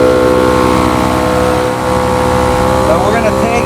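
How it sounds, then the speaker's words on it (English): A SmittyBilt portable air compressor inflating a tire gives a steady, droning motor hum that runs close and continuous, with a voice partly over it. "this little compressor is a lot warmer than the bigger one"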